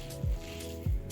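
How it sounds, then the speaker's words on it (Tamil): Banana flower vada batter is squished and mixed by hand in a bowl: two soft, wet squelching pushes about half a second apart, close and moderately loud, with no talking. "போட்டுட்டு எல்லாத்தையும் ஒன்றா மிக்ஸ் பண்ணி"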